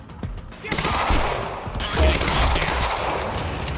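Gunfire in the video game Quantum Break: a loud, continuous rattle of shots and heavy reports layered over a dense combat din, with no clear gaps between bursts.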